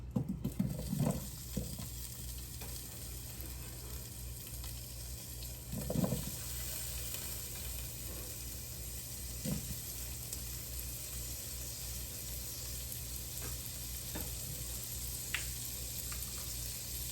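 Sausage sautéing in bacon grease in a pan gives a faint, steady low sizzle, with a few soft knocks and scrapes from stirring.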